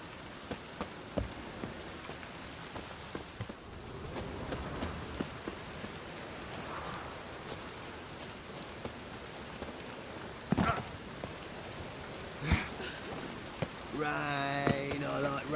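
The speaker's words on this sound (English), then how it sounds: "Rain, I like rain." Steady rain falls in The Witcher 3, a soft, continuous patter of drops with occasional sharper splashes, and a voice briefly speaks near the end.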